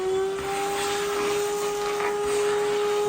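A Henry vacuum cleaner sucks up loose mortar from a brickwork fireplace being lime pointed, a loud, continuous whooshing roar with a steady motor whine and no talking.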